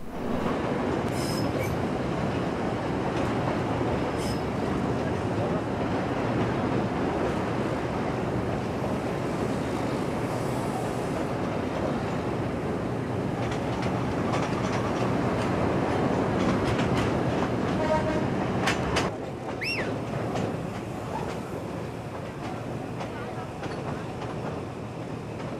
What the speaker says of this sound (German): Der Zug wird langsamer, kommt erneut zum Stillstand.